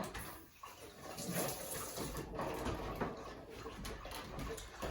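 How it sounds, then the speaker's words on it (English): Hands rinsed under running tap water while cooking pot roast, a continuous splashing rush with irregular spatter as the hands move through the stream. "I'm going to rinse my hands real"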